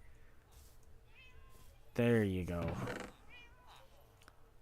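A cat in the Minecraft video game gives a loud, close meow lasting about a second, with a person talking softly around it.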